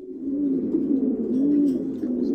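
Racing pigeons coo softly and steadily in their loft, a low continuous rolling murmur close by with no talk over it.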